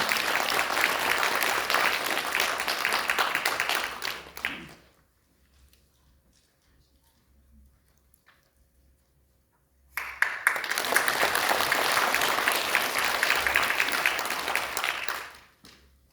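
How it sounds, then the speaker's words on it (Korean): Audience applause at the launch event of a Korean platform political party, in two bursts. A loud sustained round of clapping stops abruptly, leaving several seconds of near silence, then a second equally strong round follows and fades out. "여러분 큰 박수로 맞이해 주시면 감사하겠습니다"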